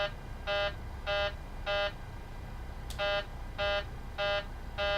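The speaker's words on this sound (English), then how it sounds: "You're going to hear some buzzers." Repeated warning buzzer tones in a jet cockpit as the aircraft leaves the runway, three evenly spaced bursts then a brief pause and four more, steady and fairly loud over a low engine rumble.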